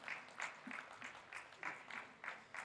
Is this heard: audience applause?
yes